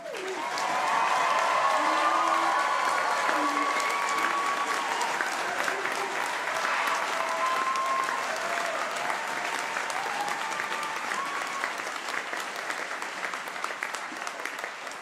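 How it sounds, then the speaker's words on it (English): Graduates at a graduation ceremony give a long, sustained round of applause, dense and steady throughout with a few faint cheers and voices mixed in. "I think you need to give yourselves all a round of applause right now."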